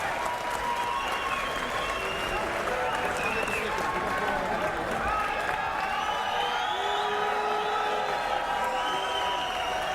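A boxing arena crowd reacts to Abner Mares awaiting a decision after a point deduction, sustained loud roaring, applause and cheering that fills the space while a commentator talks over it.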